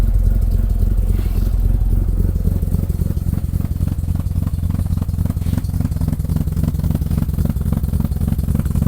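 A Mazda RX-5 rotary engine idling close by: a loud, steady, low-pitched burbling drone with a rapid, slightly uneven pulsing rhythm that runs without pause.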